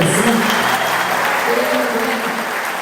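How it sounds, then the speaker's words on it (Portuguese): Congregation applauding at a Catholic religious talk, a loud, dense and sustained wash of clapping, with a voice speaking beneath it. "Então, uma salva de palmas para Jesus."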